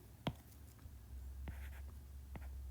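A pen or marker writes out a point-slope math formula in quick faint strokes, with a few scratchy taps spread across a quiet background.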